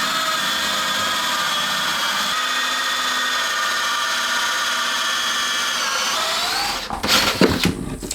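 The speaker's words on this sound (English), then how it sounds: "So I brought my extension so I could drill a hole down through that plate and under the house." A power drill whines steadily at high speed, boring through a wooden plate under a mobile home, then bogs down and stutters near the end as the bit catches.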